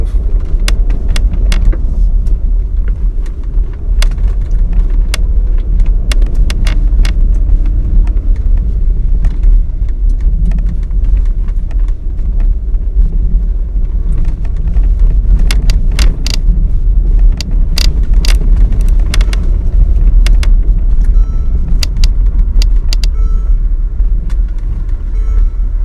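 A 2013 Mercedes ML SUV with a V6 of about 300 horsepower driving on the road, heard from inside as a steady, loud low rumble with scattered small clicks and rattles and no talk.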